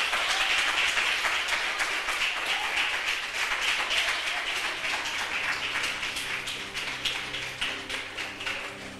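A church congregation applauds together at a Christmas service, a dense, steady wash of clapping that fills the room and then thins toward the end into sparser, more distinct individual claps.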